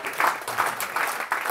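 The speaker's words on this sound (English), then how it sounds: "An applause for these people." Brief applause from a seated audience at a climate talk, honoring three people, with clapping in short pulsing waves that stays moderately loud.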